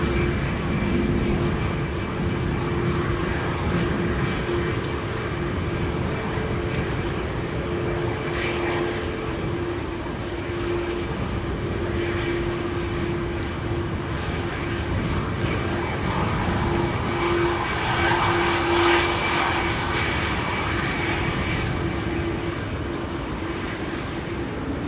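Delta Airlines Airbus A330-300 jet on Flight 47 to New York JFK at Amsterdam Schiphol during a storm, a steady loud engine roar swelling gradually over wind noise for a long stretch, with no talk.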